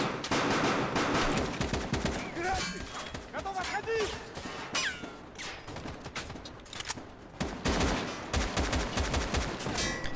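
Gunfire in a firefight in the video game Escape From Tarkov: rapid bursts and single shots crackle through dense combat noise, with someone talking over much of it.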